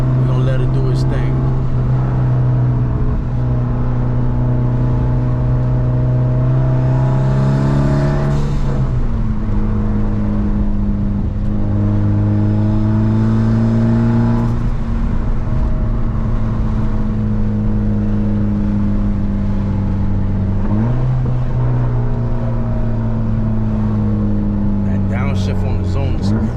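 A Mitsubishi Evo X strains on a dyno, its engine droning loud and steady as revs climb, then drops pitch at each gear shift, about three shifts in all, with a voice faintly underneath.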